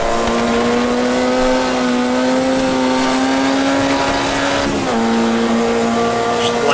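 Formula Junior race car engine in Automobilista 2, a steady loud buzzing drone that dips briefly near the end as the gear drops, with faint tire noise underneath.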